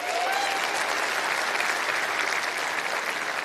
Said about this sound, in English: Can we give them a round of applause so they can hear us?